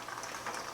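Pomegranate seeds poured into a bowl lined with paper towels, giving a brief soft patter of small wet seeds spilling and settling, close and quiet, with no talk.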